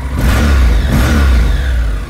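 A 2012 Honda NC700X DCT motorcycle engine revs steadily up close, a deep continuous rumble that swells briefly and keeps running loud throughout.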